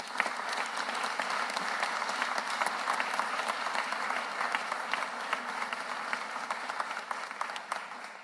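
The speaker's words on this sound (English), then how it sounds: "Give him a round of applause." Sustained applause fills a large room as a crowd honors Philadelphia managing director Adam Thiel, dense steady clapping holding at full strength and tapering only slightly near the end.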